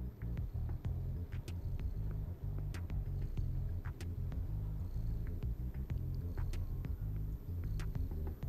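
A steady, low rumbling purr from a cat in the video game Stray continues throughout, with occasional faint clicks and soft tones layered on top.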